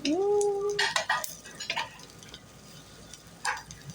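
Squash tossed into a pan of sautéing vegetables: a brief clatter and stirring scrape followed by quiet sizzling, with a short voice at the start and a faint rooster crow later.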